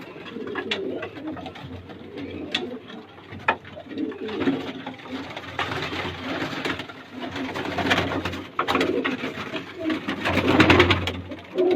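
Low flyer pigeons coo repeatedly at a home loft, soft throaty calls rising and falling over about twelve seconds, close by with a light background murmur and no clear talk.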